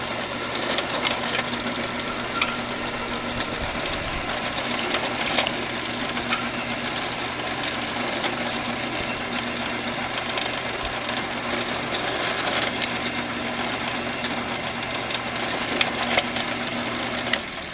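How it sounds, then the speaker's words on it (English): A drill bores out a piece of bamboo for a small flute, a steady close mechanical whir that runs evenly throughout with a constant hum beneath it. "What I'm going to do now is go ahead and drill this out"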